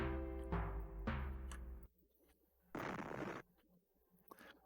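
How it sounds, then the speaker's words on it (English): A loud explosion with rumbling bursts from the 1992 Amiga game The Adventures of Maddog Williams, several sharp blasts with decaying tails followed by a second noisy burst, then quiet. "did you hear that explosion?"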